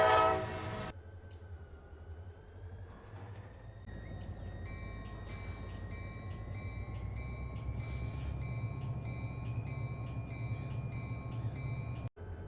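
A CSX diesel locomotive powers up in the Run8 Train Simulator game, a steady low engine drone with faint whining tones and a brief horn-like tone, continuous and fairly even throughout.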